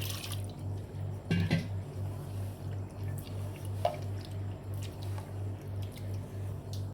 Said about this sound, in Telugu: చూడండి, పిండి అయితే ఇలా పలసగా కలిపేసుకోవాలి.